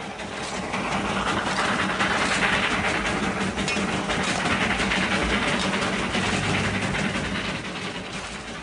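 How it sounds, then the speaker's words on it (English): A continuous rumbling small locomotive on the Darjeeling Himalayan Railway, with a dense hiss of running noise, steady and fairly close throughout. "18 little locomotives run back and forth on the Darjeeling Himalayan line"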